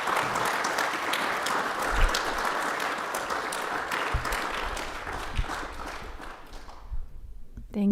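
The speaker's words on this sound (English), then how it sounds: "So please give him a big round of applause." Audience applause for a young guest, a dense, sustained wash of clapping at moderate level that fades out near the end, followed by a brief voice.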